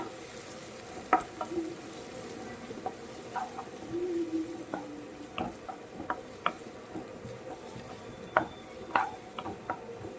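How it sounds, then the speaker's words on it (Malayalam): Chopped carrot, shallot, ginger, green chilli and curry leaves sauté in a pan for rava uppumavu, giving a soft continuous sizzle broken by scattered stirring clicks and scrapes, moderately close. "അരിഞ്ഞു വെച്ചിരിക്കുന്ന ക്യാരറ്റ് ചുമന്നുള്ളി ഇഞ്ചി പച്ചമുളക് എല്ലാം കറിവേപ്പില ഇത്രയും നമുക്ക് ചേർത്ത് നമുക്ക് വഴറ്റിയെടുക്കാം"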